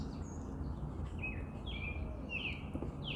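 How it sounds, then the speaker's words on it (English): Faint chirping bird calls repeat several times over a steady low background hum outdoors at a campsite in a provincial park. "It's either an owl or a mourning dove."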